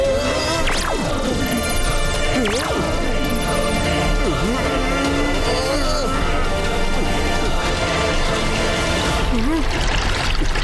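Cartoon water pours and floods in a steady loud rush, with splashy crashes and gurgling swells, under excited voices and dramatic music throughout.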